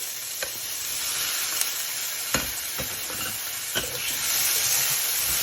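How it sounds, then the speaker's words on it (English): Pre-fried tofu dumped into a hot pan for stir-fried tofu, giving a loud, continuous close sizzle and hiss with several sharp clacks of pieces hitting the pan, no voices. "Dump in your pre-fried tofu."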